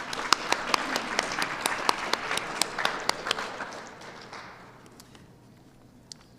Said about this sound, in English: Well, let's give her a round of applause in absence.